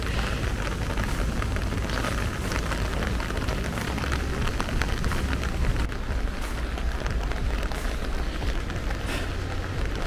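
Heavy rain pours steadily at a misty hillside waterfall viewpoint in Meghalaya, near the Seven Sisters and Nohkalikai falls, a dense, continuous close-up hiss that never lets up, with no voices.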